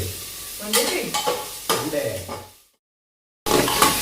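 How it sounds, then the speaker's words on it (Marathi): Potato, onion, tomato and curry leaves stirred and fried over a cumin-mustard tempering in a pressure cooker, with close scraping strokes and steady sizzle that cut off briefly into silence before the frying sound resumes. "जिरे मोहरीची फोडणी दिलेली आहे आणि हे चांगलं परतवून घ्यायला लागले कुकरमध्ये"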